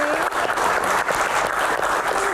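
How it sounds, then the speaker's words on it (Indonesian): Audience applause at a panel Q&A on Indonesian national film, a dense, steady wash of many hands clapping close by, sustained evenly across the whole stretch with a faint murmur underneath. "Tepuk tangan untuk rekan-rekan semuanya ada di sini."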